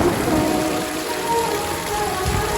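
Heavy wet-season rain falls steadily at a cottage, a dense even hiss of drops on surfaces, continuous and fairly loud.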